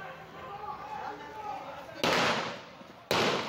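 Gunshots recorded by street residents in Alagoas: two sharp, loud broadband blasts about a second apart, each with a decaying tail, following a stretch of muffled background murmur.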